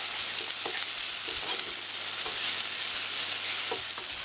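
Vegetables seasoned with salt and pepper fry and caramelize in a pan for chicken cacciatore, giving a steady dense sizzle with occasional soft stirring clicks and no talking.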